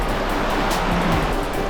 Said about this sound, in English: we got a bit of a waterfall here, folks.